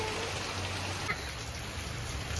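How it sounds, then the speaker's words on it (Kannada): Heavy hailstorm rain pours down in Coorg during a thunderstorm, a steady broadband hiss of falling water and hail on surfaces, fairly soft and continuous with no talk. "ಆಳಿಕಲ್ಲು ಮಳೆ."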